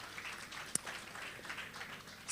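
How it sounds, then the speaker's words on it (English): Brief burst of audience applause for a panel of speakers at a women's health event, thin and fairly faint with a sharp clap early on. "Please give another round of applause to the panelists again."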